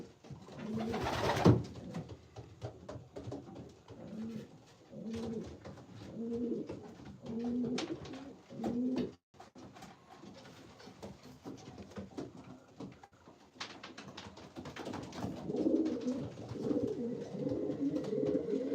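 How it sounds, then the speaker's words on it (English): Pigeons in a breeding loft, several soft, throaty coos repeating in rhythmic phrases nearby, with occasional knocks and rustles between them. "These pigeons don't fly. These are just breeders."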